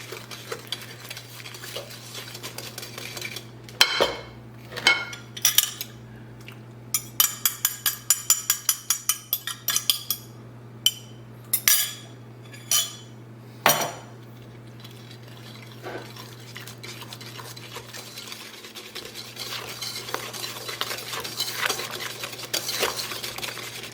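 Sticky toffee pudding batter being slowly combined in a bowl, with repeated scraping, clinking strokes of a utensil against the bowl in bursts over a steady background hum.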